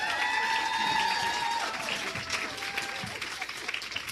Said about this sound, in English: I cut off Waded's applause there